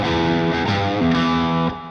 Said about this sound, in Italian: Vado al ponte questa volta, humbucker pieno.